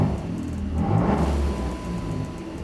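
A Jeep JK Wrangler fitted with a drive-by-wire throttle enhancer idles close by with a steady low rumble, rising into a brief rev and then settling back down.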